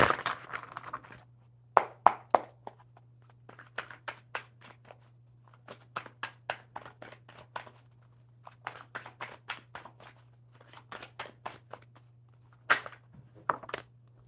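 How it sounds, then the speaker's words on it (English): A deck of cards is shuffled at close range in bursts of crisp riffling and flicking, with brief pauses between them, over a low steady hum. "One more super good shuffle."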